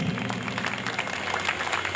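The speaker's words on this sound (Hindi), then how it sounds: "जोरदार तालियां प्लीज।" Applause from a senior citizens' Holi gathering after a sung number, a steady wash of clapping at moderate loudness with no one speaking over it.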